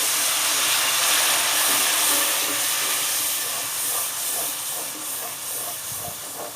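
Water splashed into spice paste frying in a pan for aloo kofta curry gives a steady, loud hiss and steam sizzle that slowly eases over several seconds, with faint crackles underneath.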